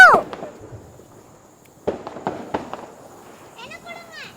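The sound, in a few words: Diwali firecrackers going off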